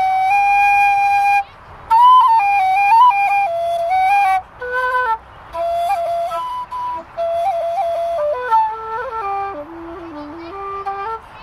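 Low D whistle played in a melodic phrase, clear breathy tones stepping between notes with short pauses, heard up close and alone.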